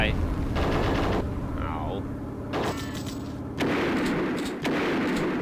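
Gunfire in the Platoon total conversion for Duke Nukem 3D: loud sustained bursts of shots and booms come in several blocks. A player briefly exclaims over the firing.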